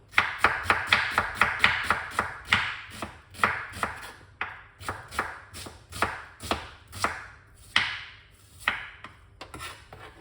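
Knife chopping a purple onion on a board, a rapid run of sharp, close taps that slows into spaced single cuts, loud and clear with no talking.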